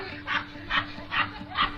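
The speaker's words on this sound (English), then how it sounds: "Woman loses control of her dog." A dog barks repeatedly from a watched video of a woman losing control of her dog, four evenly spaced barks of moderate loudness over a steady background hum.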